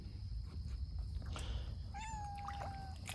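An outdoor cat out hunting in a yard gives one clear, drawn-out meow under a second long, standing out over a steady background rush.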